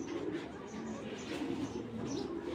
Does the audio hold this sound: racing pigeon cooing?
yes